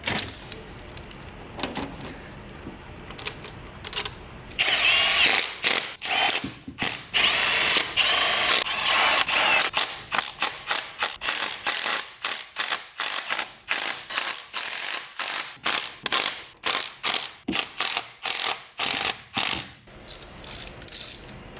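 A ratchet tightens bolts on an LS engine, starting with a long run of fast clicking and moving into a series of separate rhythmic ratcheting strokes, close and loud, with no talking.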